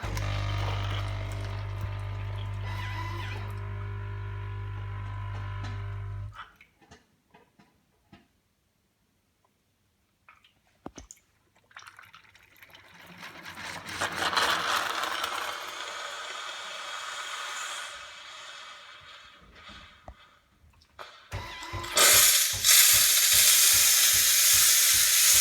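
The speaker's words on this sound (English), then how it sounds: "It's quite noisy, so I'll just let it run so you can see what happens." Melitta Caffeo Varianza CSP coffee machine running its Easy Clean cycle: a loud, low pump hum stops abruptly, leaving near silence and scattered clicks, then hissing steam and water gurgle build, ending in a loud sputtering blast.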